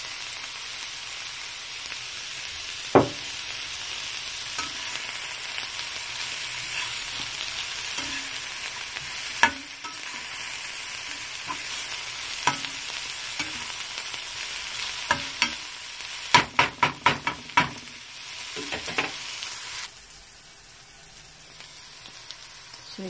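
Cabbage frying in a pan with a steady hiss of sizzling, broken by occasional scrapes and knocks of stirring and a quick flurry of clatters near the end before the sizzle quietens.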